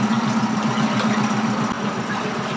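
A Tohatsu MFS 9.8 B outboard motor running steadily during break-in, a close, continuous buzzing hum with a regular throbbing pulse and a faint water spray hiss, no voices.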